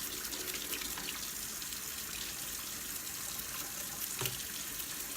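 Tap water runs steadily into a sink while surgical instruments such as rat tooth forceps are rinsed, a constant close splashing rush with a faint clink near the end.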